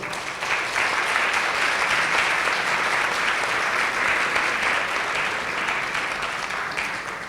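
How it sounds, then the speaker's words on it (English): An audience gives sustained applause to Holocaust survivors at a remembrance gathering, a broad, even roar of clapping that swells in and carries steadily to the end. "maybe we should give them applause"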